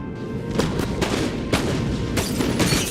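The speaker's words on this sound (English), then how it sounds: "And my guys are shooting" Infantry musket volleys from the Napoleon Total War video game, scattered sharp cracks and dull booms rolling across a noisy battlefield at mid distance, with no voices.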